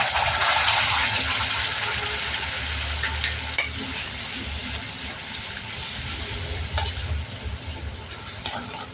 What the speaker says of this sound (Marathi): आणि छान हे परतून घ्यायचं। 2 सेकंद छान परतून घ्या।